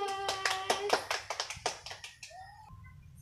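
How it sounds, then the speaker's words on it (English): A classroom of students gives a round of applause, a short burst of sharp overlapping claps close by that fades out within a few seconds, with a faint voice at the end. "So let's give a round of applause."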